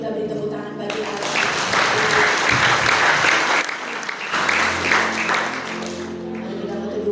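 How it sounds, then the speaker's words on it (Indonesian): Congregation applauding at an Easter church service, a dense sustained roar of many hands clapping, loud throughout, with a steady tone and a brief lull midway before it swells again. "mari sekali lagi kita beri tepuk tangan bagi Allah"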